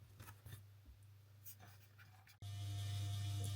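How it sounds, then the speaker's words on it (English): An electric fan in a hot room is switched on with a click partway through, then runs as a steady, loud, low hum that continues to the end after faint earlier background sounds. "sorry about the noise. I've had to cut the fan on because it's so hot here"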